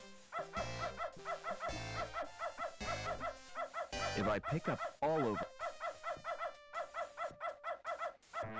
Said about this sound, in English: That dog doesn't want to share his biscuits.